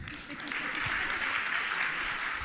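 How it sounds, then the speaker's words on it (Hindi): Audience clapping at a Jain spiritual question-and-answer gathering, a steady dense wash of applause lasting throughout, fairly loud and uninterrupted, with no voices standing out. "बजाओ ताली"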